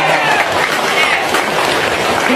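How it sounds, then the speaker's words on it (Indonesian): A crowd gathered at a meeting about a relocation dispute claps loudly and densely for a short burst, with some voices mixed in. "Kita tepuk tangan dulu."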